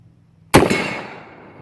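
A single sharp, loud blast from a New England 12 gauge magnum single-shot slug gun fired outdoors, with a sudden crack followed by a rolling echo that fades over about a second.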